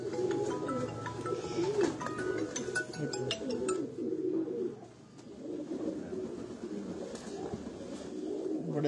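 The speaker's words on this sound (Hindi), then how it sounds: "ਅਫਤਾਬ ਭਾਈ ਦੇ ਘਰ ਦੇ ਚੀਨਾ ਕਬੂਤਰ ਬੜੇ ਅੱਛੇ ਕਬੂਤਰ ਨੇ" Cheena pigeons coo steadily through the clip with low, rolling murmurs from several birds, close and continuous, while someone talks intermittently over them.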